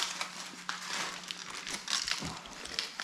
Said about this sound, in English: now we're to the point where we're gonna unwrap and see what we're working with